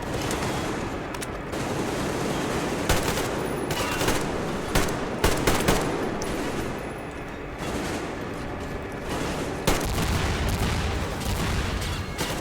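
Dense gunfire in the video game Metro Exodus, continuous rapid automatic bursts and sharp single shots with heavier booms mixed in, loud and close throughout.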